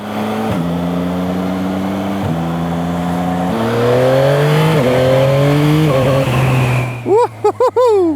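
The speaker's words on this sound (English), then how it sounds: "Let's stick it back into manual, down into second, down into first, and then the upshifts are so satisfying" A Yamaha MT-09 with the Y-AMT automated gearbox pulls through a series of quick, smooth upshifts, the engine note climbing then dropping at each change, loud and close under wind, before a few sharp blips at the end.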